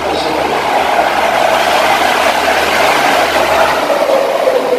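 A truck passing outside during a Maulid Nabi gathering, heard as a steady, broad engine rumble that stays loud and even throughout with no clear rise or fall.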